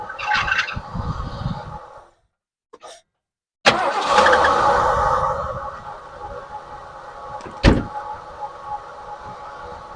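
Lincoln car engine fitted with a new Amazon carburetor, idling roughly, cutting out briefly, then catching again and running steadily in gear, with a sharp clunk near the end.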